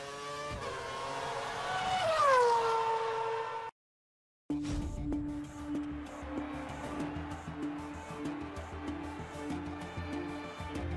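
F1 race car engine in the F1 2013 video game at Monaco: a high-pitched screaming engine rises then falls in pitch, cuts out briefly, then returns as a steady buzzing drone with gear changes and tyre noise.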